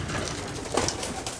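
Pigeons coo softly and steadily at close range, a low burbling murmur running throughout with no talk.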